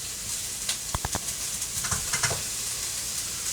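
Squash pieces frying with onions and meat in a hot pan, a steady close sizzle punctuated by a few sharp taps and stirring clatters.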